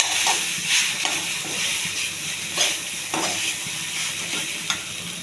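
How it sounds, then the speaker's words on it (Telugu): Brown rice being stirred into lemon rice with peanuts in a hot pan, giving a steady close sizzle with repeated scraping stirs of a spoon and no speech. "రైస్ వేసి కలుపుకోవాలండి."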